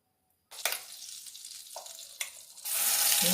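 700 grams of chicken drop into hot oil and butter with a sudden loud sizzle, the frying crackling steadily with a few stirring scrapes before swelling into a fuller hiss at the end.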